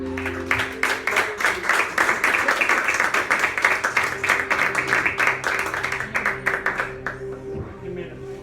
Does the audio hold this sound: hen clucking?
no